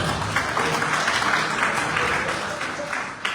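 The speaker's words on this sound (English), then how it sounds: "They clap for the government official." A crowd claps steadily for a few seconds, a dense even patter of applause with voices faintly underneath.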